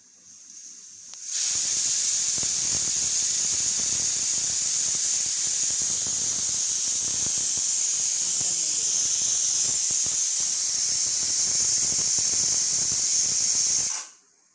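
Pressure cooker venting steam while mutton curry cooks, a loud steady hiss held for about twelve seconds at close range, then cut off abruptly.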